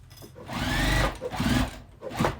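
A sewing machine stitches a seam on a quilted bag in two close, whirring runs, with a brief pause between them and a short burst at the end.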